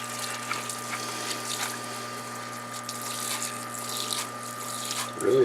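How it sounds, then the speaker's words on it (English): A parts washer runs with a steady pump hum and a continuous splash of solvent as an oil-soaked foam air filter from a Murray push mower is washed, with a brief louder gurgle near the end. "So what we're going to do is we're just going to wash it out here in our parts washer."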